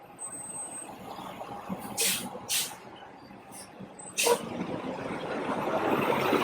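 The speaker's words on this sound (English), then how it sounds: "Noisy truck." A truck rumbles by nearby on a city street in Savannah with a few loud hissing bursts like air brakes, the engine noise building toward the end.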